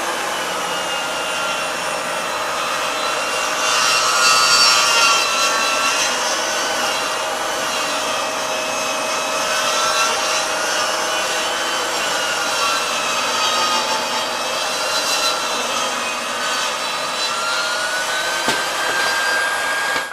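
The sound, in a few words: SawStop compact table saw cutting wood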